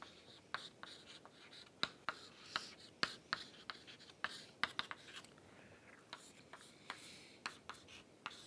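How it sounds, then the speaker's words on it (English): Handwriting on a board or paper during a maths lesson: quiet scratchy strokes and taps in an irregular rhythm, close and soft, with faint whispery breath underneath. "So, let me write it here."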